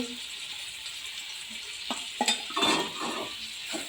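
Tomatoes and salt are stirred in a pan while cooking for ghugni, with soft sizzling under a few close scrapes and clatters of a spatula against the pan, fairly quiet overall.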